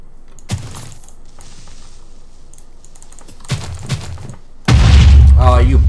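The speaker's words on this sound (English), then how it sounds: "Look at the explosion." A Minecraft explosion blows up a building, a sudden loud broadband burst that starts abruptly and sustains a heavy rumble, preceded by quieter game sounds, a couple of soft thumps and some talk.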